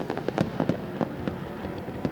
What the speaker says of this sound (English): Fireworks on the track and fire on the Abu Dhabi Racing Mercedes at the same time